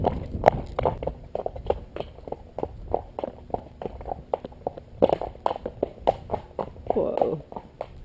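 Rhythmic clip-clop of hooves at a brisk trot, evenly spaced beats close by, with a person speaking briefly over them.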